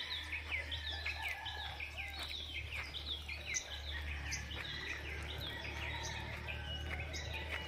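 Birds sing and chirp steadily on Mount Lantawan, where several overlapping songs rise from a soft, continuous outdoor hum, with faint insects in the background.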